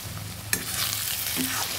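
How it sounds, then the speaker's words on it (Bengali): Onion, ginger and garlic frying for a mutton curry, a steady sizzle in the pan with a sharp scrape of stirring near the start. "ভালো করে ভেজে নিচ্ছি।"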